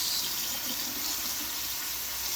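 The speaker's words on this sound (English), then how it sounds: "So just put it in a strainer like this. Run it with water." Tap water runs steadily over vegetables in a strainer, a close, even hiss and splash with no break.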